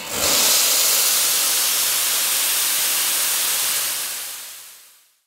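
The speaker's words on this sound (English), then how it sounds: "open both steam valves to ensure there is no more steam pressure" Steam valves on a Sanremo espresso machine, switched off, vent the remaining boiler pressure in a loud, steady hiss. The hiss holds for about four seconds, then fades out.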